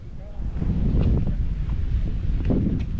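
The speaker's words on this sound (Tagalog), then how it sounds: "medyo mahangin. Wala akong dalang mic guys." Wind rumbles against the microphone in a steady low roar, with a voice faintly audible beneath it.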